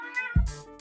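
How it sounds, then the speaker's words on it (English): Twenty-year-old pet cat giving a single short, close meow in a quiet room. "Oh, that's my cat."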